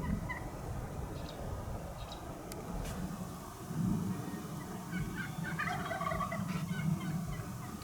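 Several wild turkeys gobble in the distance on a mountain at dawn, over a steady low rumble of wind and background noise.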